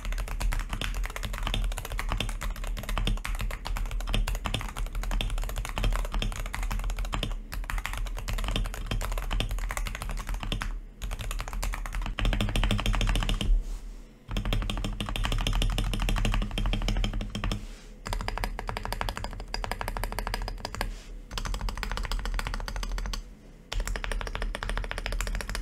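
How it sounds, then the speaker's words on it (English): Continuous typing on a Wooting keyboard with Lekker V2 switches, a dense, steady stream of close keystroke clicks lasting over twenty seconds, broken only by a few short pauses. "here is the sound test of the keyboard"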